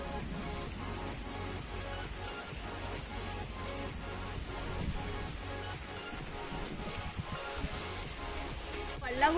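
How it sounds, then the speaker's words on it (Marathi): Steady rain falls throughout in the Konkan region, a dense continuous hiss with scattered drops, no voices heard. "तर पाऊस पडायला लागला"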